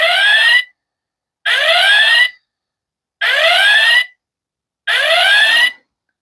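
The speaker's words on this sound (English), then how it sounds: "It's the red alert from Star Trek" Star Trek red alert klaxon used as a warning buzzer, four loud rising electronic whoops of about a second each, evenly spaced by short silences, with no voices.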